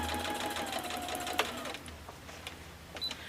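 A sewing machine chain-pieces small mini-quilt pieces, a quiet steady motor whir with a rapid needle rhythm, close by and with no voices, ending in a few soft clicks.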